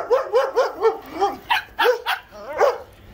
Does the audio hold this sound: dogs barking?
yes